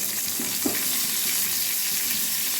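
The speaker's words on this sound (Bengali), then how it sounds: "তেলের উপরে আমি কারি পাতা ফোড়ন দেবো" Curry leaves crackling in a little sunflower oil on a hot tawa, a steady close sizzle with a couple of brief pops near the start, no voices.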